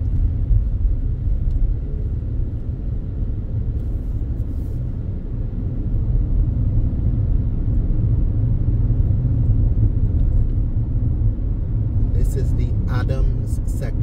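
A car cruises along the ABC Highway in Barbados with a steady, close, low road rumble and engine drone that holds constant throughout, a few faint clicks near the end.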